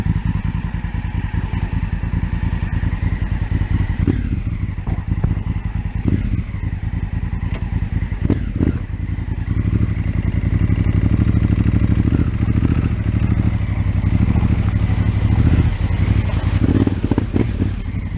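An adventure motorcycle with a DCT gearbox rumbles loudly and steadily at close range off-road in Africa, with rattling clatter and surges of revving as it rides over rough ground.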